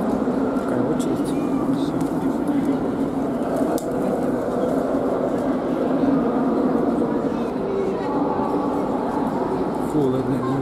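Busy station ambience around a large double-decker passenger train: a steady broadband rumble and hiss of the platform and train runs throughout, with people talking close by over it.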